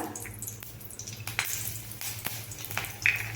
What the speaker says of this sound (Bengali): কড়াতে আমি তেল দিয়ে নিয়েছি এখানে আমি একটি কাঁচা লঙ্কা